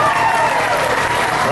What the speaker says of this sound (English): How about a round of applause for him as well?